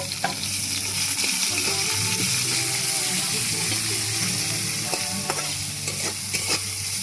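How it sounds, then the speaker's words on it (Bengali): Onions frying in a pan for a Bengali dish, a continuous loud sizzle broken by scraping stirs and a few clinks of the spoon against the metal. "পেঁয়াজটাকে লাল লাল করে আমরা ভেজে নেব।"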